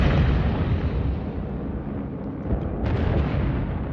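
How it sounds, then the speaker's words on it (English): Bombs blasting across a Malta airfield during an air raid, heard as a dense, continuous low roar of explosions with one sharper burst near the end and no talking. "Bomb blasts and craters."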